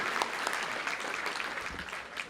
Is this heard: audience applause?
yes